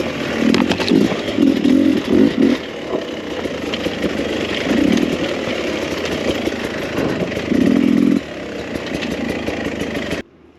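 A 2021 Beta 300rr two-stroke dirt bike being ridden, its engine droning steadily and rising in a few brief throttle bursts, loud and close with wind noise, before cutting off abruptly at the end.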